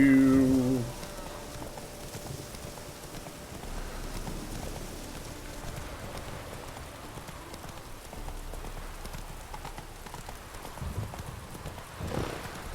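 Horse hooves clip-clop at an even walking rhythm in the game Witcher 3, faint and steady under ambient game sound, with a short louder burst at the start.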